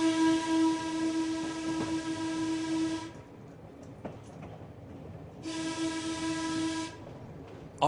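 The Byron Bay solar train runs along a coastal railway, sounding two long steady horn blasts with rumbling wheels on the track between them and no talking.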